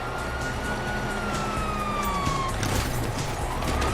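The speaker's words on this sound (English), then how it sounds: "you hear that? Sirens." A police car siren in the video game GTA V, a wailing tone sliding downward over a loud background of game noise and engine rumble.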